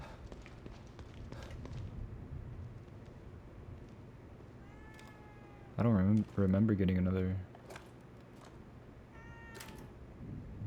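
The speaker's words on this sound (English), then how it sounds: "Wait, the kitty's meowing." A cat meows several times in quick succession in the video game The Evil Within 2, loud and close, while a person talks quietly over a steady background hum.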